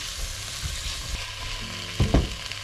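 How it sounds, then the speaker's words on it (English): Tomato puree frying in a pan for British-style chilli con carne gives a steady, close sizzle throughout, with a couple of louder utensil scrapes and clatters near the end. "we just want to cook that tomato puree for around about 2 minutes, just to get rid of the bitterness"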